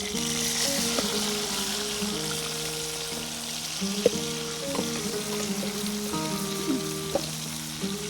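Sing bhujiya curry sizzles steadily as it fries in a pan, with occasional scraping clunks of a spoon stirring it, close and continuous without talk.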